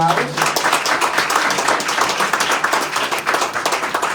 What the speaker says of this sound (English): Next one was clap for because they couldn't join us today